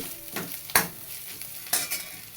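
Fresh coriander dropped into a hot sizzling tempering for a matki rassa curry, heard as a soft continuous frying hiss with a few sharp stirring scrapes close by.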